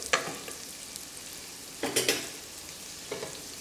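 Onions sautéing in a pan for kodo millet kichadi, a soft background sizzle broken by a few brief scraping stirs, close and without voices.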